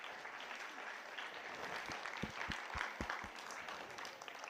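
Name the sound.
applause for children performers at summer camp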